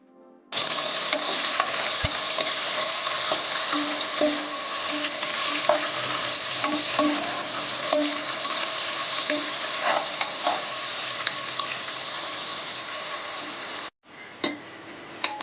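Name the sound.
onions being sautéed in a pan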